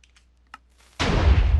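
A Minecraft TNT cannon blast in version 1.8: a sudden loud, broadband explosion that hits at once and roars on with a dense, rumbling tail, following near-silence broken by a couple of faint clicks.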